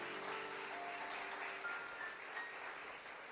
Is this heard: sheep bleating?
no